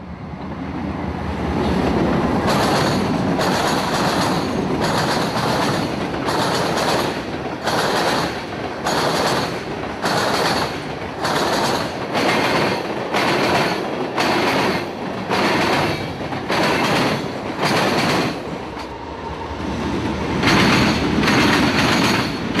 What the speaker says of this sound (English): Norfolk Southern 321 is roaring into Crawford, bound for Simpson Yard